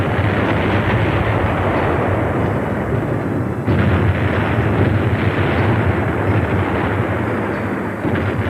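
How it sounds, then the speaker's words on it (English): Live gunfire and explosions during Navy SEAL training on an obstacle course form a loud, continuous barrage of booming bursts and rumbling blasts, with a sharp jolt partway through. "the most punishing program in the world would encompass crawling through mud and obstacle courses filled with live fire and explosions"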